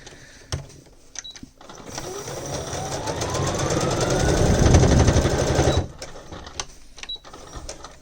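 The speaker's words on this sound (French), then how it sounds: "je vais refaire une petite couture en diagonale d'ajustement" A sewing machine stitches a short diagonal adjustment seam on a fabric bag organiser. Its steady motor whir builds, holds for a few seconds, then stops, with small handling clicks before and after and no talking.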